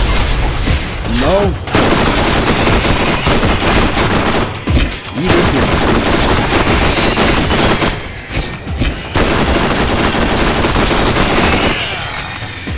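Rapid video game gunfire with shock bullets in Borderlands, loud bursts of automatic fire with brief pauses between volleys, dense and continuous, with a voice occasionally over it.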